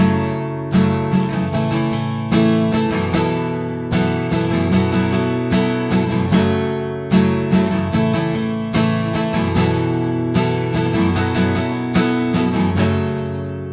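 An acoustic guitar strums a song at full tempo, steady syncopated chord strums ringing loud and close with no voices.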